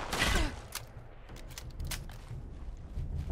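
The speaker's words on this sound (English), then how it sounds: "Seriously, who's shooting? I can't tell." Gunfire aimed at the player in the online game Fallout 76: a loud burst at the start, then scattered, fainter shots and impacts over a steady background of game noise, with no talking.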